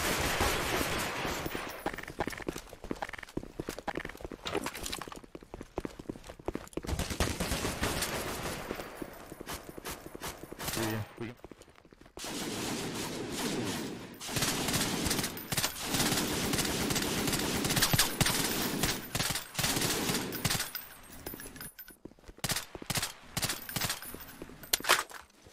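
Dense bursts of MG42 machine gun fire roar across a bridge in a Garry's Mod World War II battle, loud sustained volleys broken by brief lulls, with scattered other gunshots mixed in.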